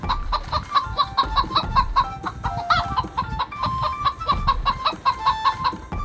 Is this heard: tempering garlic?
no